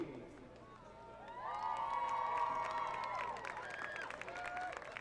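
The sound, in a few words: crowd applause and cheering for girls' soccer players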